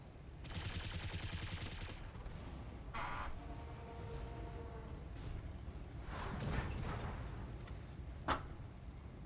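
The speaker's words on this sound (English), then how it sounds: "we're just gonna Copy that. come over here and machine gun this guy" Automatic machine gun fire in a mech combat video game, a dense sustained burst followed by shorter bursts and a sharp late impact, set against a low, steady background hum.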